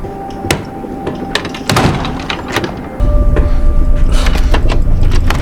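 Repeated heavy banging and rattling on a locked door, sharp irregular knocks growing louder and more insistent over a low background rumble.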